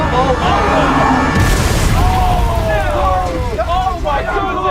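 A meteor crashes and explodes in the Hello Neighbor 2 video game, a loud sustained rumbling blast with a roaring burst partway through, while excited voices talk over it.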